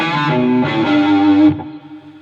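A short distorted electric guitar riff from a rock song, a few sustained, fuzzy notes played loud before cutting off and ringing out.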